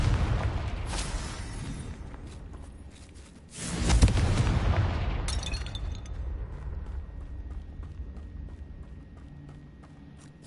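A Confringo spell explosion from Hogwarts Legacy lands as a loud, close boom with a heavy low-end burst, then a long rumbling, crackling decay.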